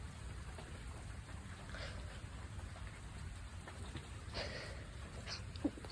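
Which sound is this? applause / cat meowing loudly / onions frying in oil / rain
rain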